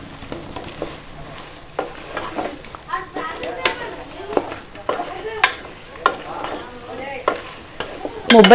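Veg manchurian with cabbage balls being stirred in a pan, a spoon scraping and clinking against the metal in an irregular rhythm over a soft sizzle, with a voice speaking at times.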